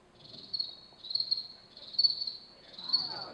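A man imitates a cricket with his voice, giving four steady high chirping trills in a regular rhythm, fairly faint and close, over a quiet room.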